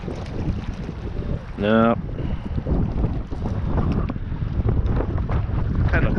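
Strong 40 mph wind gusts buffet the microphone on a fishing boat while crappie fishing, a continuous loud rumble with water noise, and a voice speaks briefly.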